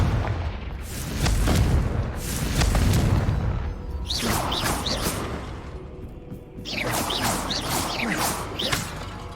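The Confringo fire spell in Hogwarts Legacy bursts with heavy, rumbling booms and crackling blasts, followed by sharp whooshing magical effects, loud and close with no talking.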